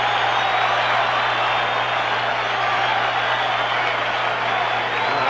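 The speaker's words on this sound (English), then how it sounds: "Yogi getting a standing ovation from this crowd." A baseball crowd at Yankee Stadium during the 1976 World Series Game 4 gives a standing ovation, a dense, continuous roar of cheering and applause that stays loud and steady throughout.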